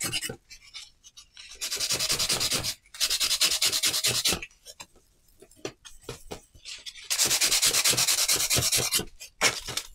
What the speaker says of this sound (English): We will use the sandpaper.